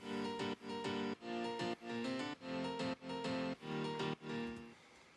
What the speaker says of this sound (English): I've added 2 more layers of piano,